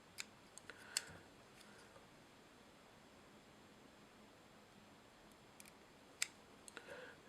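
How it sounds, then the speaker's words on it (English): Sharp scissors trimming the legs on a Jujubaetis fly at a fly-tying bench, with a few faint, crisp snips and tiny clicks scattered through otherwise near silence. "that right there, my friends, is why you have sharp scissors"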